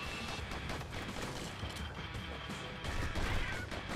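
Shooting and impact sounds from the video game Bastion, a dense, continuous mix of smashing hits and gunfire-like bursts over busy game noise, swelling louder near the end.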